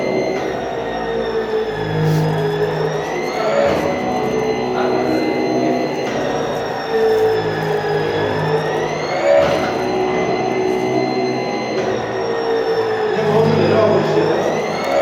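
A motorized stair-climbing lift carrier (LiftCar HD) climbs stairs in continuous mode, its motor whirring steadily with rising and falling pitch across repeated step cycles, close and fairly loud, with a voice talking over it at times.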